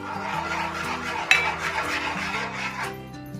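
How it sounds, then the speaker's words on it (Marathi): A spoon stirs milk powder into boiling milk in a pot for homemade mawa kulfi. It makes soft scraping and clinking against the metal, with one sharp knock, over steady background music. "आता याच्यामध्ये तीन मी स्पून दूध पावडर घेतलेली आहे मिल्क पावडर याच्या गुठळ्या न होता तुम्हाला एक एकसारखं हलवून घ्यायचं आहे"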